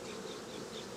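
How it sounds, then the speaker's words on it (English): Honeybees buzzing around hive frames, a steady, dense hum of many bees close by, continuous with no pauses. "take those frames of bees and throw them up here in this top box"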